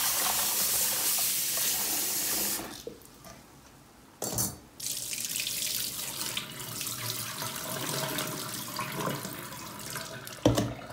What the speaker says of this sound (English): Couple of times you need to rinse it with cold water.